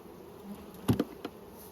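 Honey bees buzz faintly through a brief stretch while a brood box frame is handled during spring hive management, with a few sharp knocks or shakes standing out over the low hum.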